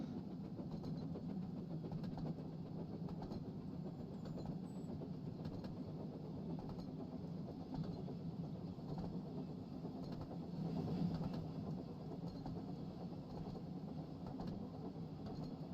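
A locomotive engine running alone down a branch line in a Thomas-themed railway video game, giving a steady low rumble with faint rail clatter throughout, moderately quiet and continuous with no talking.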